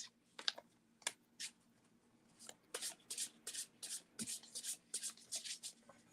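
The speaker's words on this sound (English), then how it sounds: "It's like sandpaper, it sounds like, and it's just so nice in the way it shuffles." An astrology card deck being shuffled in a series of crisp, rapid, sandpaper-like riffles, each a short papery burst, repeating steadily with brief pauses between them.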